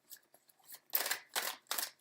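Tarot cards are shuffled close by, soft riffling bursts building into three louder rustling sweeps, with no voices.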